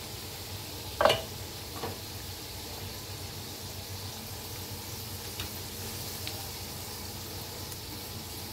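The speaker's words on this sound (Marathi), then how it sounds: "असंच तळून घेते." Jaggery and peanut karanji deep-frying in oil, a faint, steady bubbling hiss with a sharp clink of a utensil near the start and a few softer taps later.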